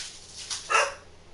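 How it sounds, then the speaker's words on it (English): A dog gives a couple of short, fairly faint barks over steady background noise. "My dog has been going crazy today."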